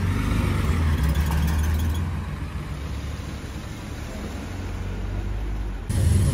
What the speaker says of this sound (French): on vient d'aider une Daytona à passer